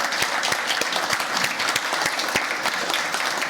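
An audience at a women's pitch competition gives the three contestants a round of applause: steady, dense clapping from many hands, fairly close and loud throughout.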